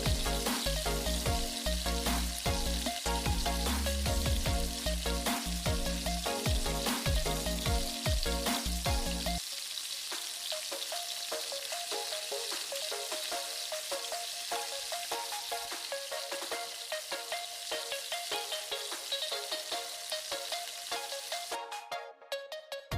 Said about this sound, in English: Fry until change color.